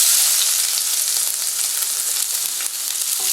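Onion frying in hot oil in a copper-bottom tawa, a loud, dense continuous sizzle close up with no talking.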